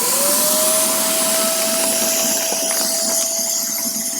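Vacuum sealer pump drawing air through a valve on a bag holding a quilt packed for shipping, a loud continuous whining hum close by that holds steady.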